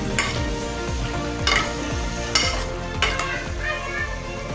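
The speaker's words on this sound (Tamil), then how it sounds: "மட்டனை வெங்காயம் தக்காளியோடு சேர்த்து நல்லா வதக்கிக்கோங்க" Mutton sautés with onion and tomato in a pan, with a steady close sizzle and repeated scraping stirs of a spatula knocking at a regular rhythm.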